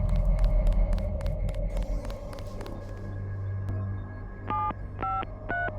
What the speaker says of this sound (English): I don't know why they all make phone noises.